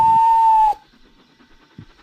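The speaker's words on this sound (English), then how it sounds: "he heard a whistle." A single sharp, shrill steam whistle blast lasting under a second, followed by quiet.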